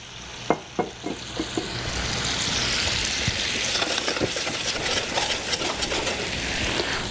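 About half a cup of liquid goes into a hot pan for a salmon and fennel dish: a few close utensil clinks, then a loud, steady sizzle that swells and holds, crackling with small pops.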